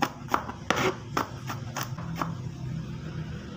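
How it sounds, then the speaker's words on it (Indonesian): Three smashed garlic cloves are minced with a knife, giving a few close, crisp taps at an irregular pace over a low background hum. "3 siung bawang putih kita geprek aja. Kemudian ini kita cincang."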